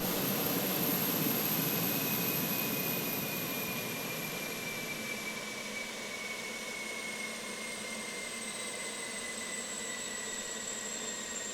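In a flight video game, a steady aircraft jet engine roar winds down slowly, its high whine gliding lower as the rumble settles into a constant drone.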